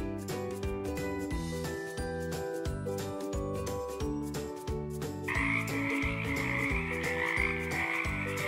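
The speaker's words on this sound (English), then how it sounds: "The frog is a small amphibian that loves to live near water in the jungle." A small jungle frog croaks in a rapid, regular pulsing series, loud and close, over a steady tonal musical bed.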